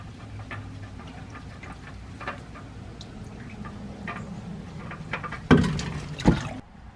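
Engine oil drains and drips from a 2009–2014 Honda Pilot 3.5L onto a screen, a steady low trickle with scattered drips, then two louder splashing bursts near the end.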